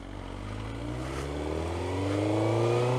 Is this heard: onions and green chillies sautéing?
no